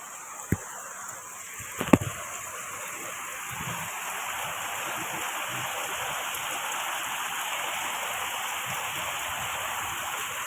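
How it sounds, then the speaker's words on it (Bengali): Heavy rain pours steadily outside, a dense even hiss that swells and holds, with a couple of sharp cracks near the start. "বাইরে প্রচুর জোরে বৃষ্টি হচ্ছে, সেরকম বিদ্যুৎ চমকাচ্ছে।"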